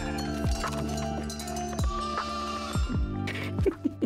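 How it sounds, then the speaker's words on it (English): Sheep in a Foundation village bleat several times in turn against a steady musical backdrop, the wavering calls fairly close and clear, with hoof-like clatter near the end. "Sheep!"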